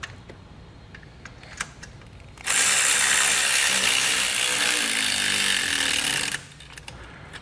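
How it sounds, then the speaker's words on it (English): Tools tighten bolts on a Blue Ox base plate fitted to a 2019 Mini Cooper. Quiet clinks lead into a loud, continuous power-tool whir lasting about four seconds, then it cuts off. "we're gonna grab our tools and just snug it up"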